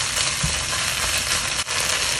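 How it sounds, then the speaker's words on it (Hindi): Beef and broccoli stir-frying in an open pan, a dense, steady sizzle and crackle of hot oil throughout with a light scrape of stirring, close and fairly loud, no voices. "इसको मैं इसी तरह से थोड़ी सी देर और फ्राई करूँगी 3 मिनट के लिए"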